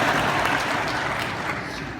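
Audience applause fills the Grand Ole Opry in a dense, loud wash of clapping that fades slightly over two seconds.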